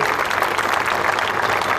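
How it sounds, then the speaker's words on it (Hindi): A lecture-hall audience at a Nashik lecture series breaks into loud, sustained applause, dense continuous clapping from many hands throughout. "मैं चाहता हूं कि आप दिल से बहुत ज़ोर से उन लोगों के लिए बहुत ज़ोर से ताली बजाएं"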